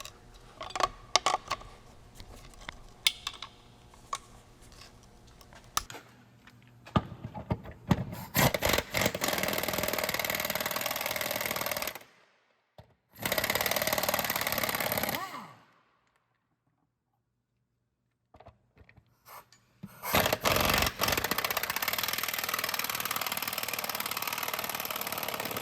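Power tool, likely an impact gun, breaking transmission bolts free on a 2007-2014 Subaru Impreza with manual transmission; several loud sustained bursts separated by short pauses and a silent gap, close to the microphone.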